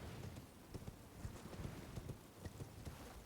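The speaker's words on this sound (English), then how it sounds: "The horse in this game is very strange." Horse hooves clip-clopping in a video game, a steady run of soft, fairly even hoofbeats close by, at low level and heard alone with no talking.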